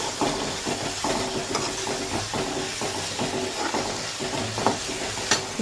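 Ginger stirred into a hot pan while making kothu parotta, with a steady sizzle and hiss under repeated rhythmic scraping and clattering of a spoon against the pan, close and fairly loud, no voices.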